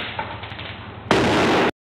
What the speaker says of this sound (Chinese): 接连传来好几声爆炸声